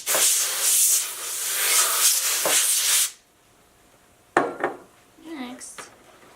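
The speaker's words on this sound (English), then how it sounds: "Give it a couple sprays inside that." Compressed air sprayed inside a PlayStation 4, a loud close hissing blast lasting about three seconds, then silence, then a couple of clattering handling sounds and brief quieter noises.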